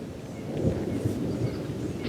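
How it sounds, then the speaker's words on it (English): Low thunder rumbles through a rainstorm in the outdoors, a soft continuous roll with faint rain patter and no voices. "Thunderstorms coming in."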